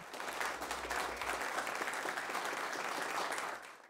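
A crowd gives a World War II tank gunner a standing ovation, steady dense clapping throughout, even and sustained, heard at a moderate distance before fading at the end.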